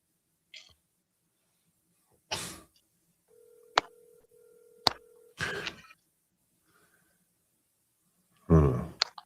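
Phone call to an unanswering line heard on speaker, with a couple of long, steady ringback tones between sparse clicks, handling bumps and brief background noises, quiet and close.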